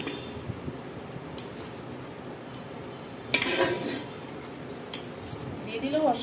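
Spoon clinking against a cooking pot while leftover chicken gravy is mixed into biryani rice, a few sharp metallic taps and scrapes over quiet kitchen room tone.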